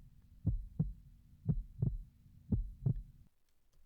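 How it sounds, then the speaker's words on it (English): A mouse's heart beats furiously as a sound effect: six soft, low thumps in quick pairs, regular and muffled, close and quiet, then stopping. "that is the familiar sound of a mouse heart beating furiously, wildly, madly"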